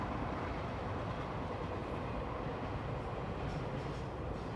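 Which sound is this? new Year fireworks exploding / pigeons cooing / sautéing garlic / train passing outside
train passing outside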